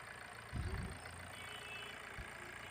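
A Hyundai Tucson engine idles steadily with a low, even hum and a couple of soft thumps early on, moderately distant and without voices.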